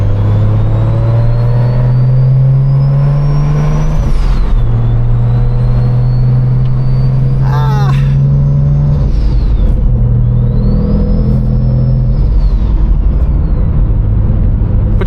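A BMW 1M clone with fiberglass flares and chunky tires drives past, its engine revving up in strong pulls and easing off between them, loud and close with steady road and tire noise underneath.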